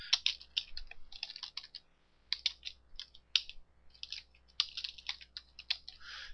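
Quick bursts of keystrokes clatter on a computer keyboard, close but quiet, in irregular runs with brief pauses between them.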